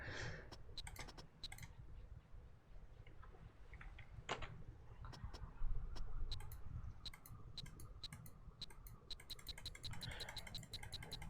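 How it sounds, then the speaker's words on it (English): Rapid mouse clicking during a computer emergency-rescue game, a fast stream of close, sharp clicks in uneven bursts that turns into a dense rattle near the end, over faint background noise. "Did I just rapidly click this? It doesn't seem like rapidly clicking's working."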